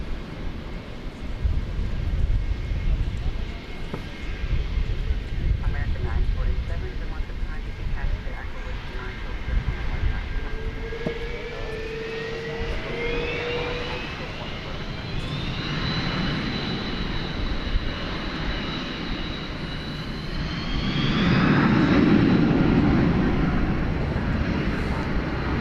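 A plane takes off from a runway at DFW Airport, its engine roar rising into a broad rumble that holds steady for nearly half a minute and swells louder near the end, while people talk throughout.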